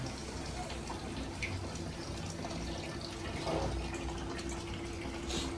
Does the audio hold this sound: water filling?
yes